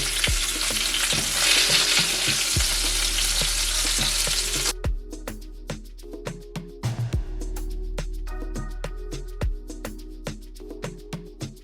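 Oxtail pieces sizzle and fry loudly while browning in a pot for Jamaican-style oxtail, with scraping and stirring knocks; the hiss drops off midway, leaving repeated clinks and taps of utensils against the pot.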